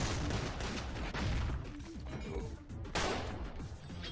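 Mortar explosions in the Project Nexus video game burst in a dense, continuous barrage of blasts, crashes and gunfire, loud and chaotic with little pause.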